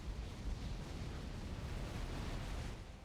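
Flat cannons fire in the space combat game Project Stardust, a dense, steady roar of rumbling blasts and bursts blending into one continuous wash of noise without clear breaks, with no voices.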